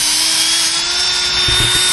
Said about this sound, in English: got a drill with a little wire wheel on it, and I'm just cleaning up the hub